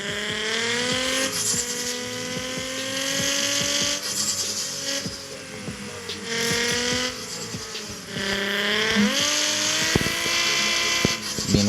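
A Nissan R34 GT-R with all-wheel drive drifting in the CPM2 video game: a continuous, close engine drone that rises and falls with revs, mixed with tire squeal and short clicks.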